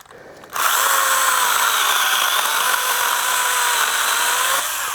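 A small Stihl GTA 26 handheld pruner saw with a 3-inch bar whines steadily at high pitch, starting abruptly after a brief quiet moment and running loud and continuous as it cuts wood.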